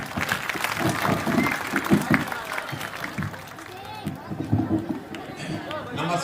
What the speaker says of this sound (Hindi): एक बार जोरदार ताली बजा